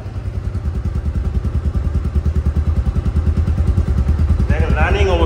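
Close, loud idle of a Bajaj Pulsar DD motorcycle engine with a steady, even thumping beat, and a voice talking over it near the end.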